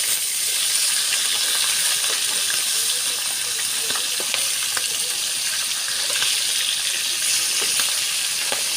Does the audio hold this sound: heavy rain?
yes